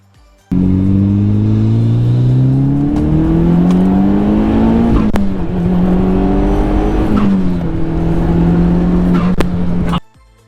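A Mitsubishi Lancer Evolution X engine revs hard through rising gear pulls, dropping briefly between shifts, loud and close for about ten seconds, then cutting off.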